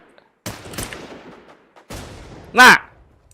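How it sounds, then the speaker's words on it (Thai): A few sharp gunshots in the video game War Z: Infestation crack out at irregular intervals, the last one loudest, with quiet gaps between them and no talking. "ใครมันยิงไม่หยุดเลยวะ"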